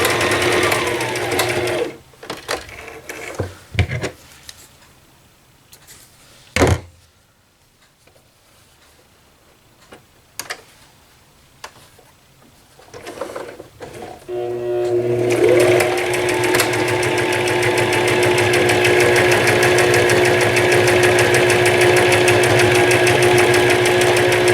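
Sewing machine back stitching along fabric edges of a cross-stitch pocket: scattered clicks and handling noises with a short quiet stretch, then a loud steady mechanical whir running continuously to the end.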